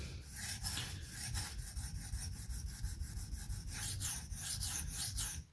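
A Spyderco Parata knife blade is being sharpened on a stone at 17 degrees. Close, quiet rasping strokes scrape back and forth in an even rhythm, with no voices over them.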